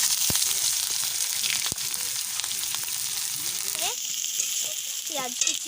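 Cumin seeds sizzle and crackle steadily in hot oil in a pan, with occasional stirring clicks and scrapes and a brief voice in the background.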